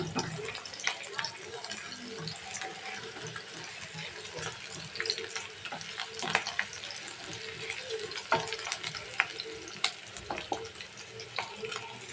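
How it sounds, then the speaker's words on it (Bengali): Onions and green chillies sizzle and crackle steadily in hot oil, with scattered pops and faint stirring scrapes throughout, fairly close and continuous. "এখন এটাকে আমি হালকা একটু ভেজে নিচ্ছি"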